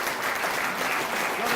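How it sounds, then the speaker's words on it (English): A live audience claps steadily for the MC at a national youth speech awards final, a dense, even wash of applause throughout with no break. "Give Marvin a big round of"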